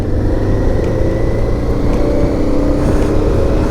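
Harley-Davidson Pan America motorcycle engine, a loud steady close drone that holds without pause throughout, no talking.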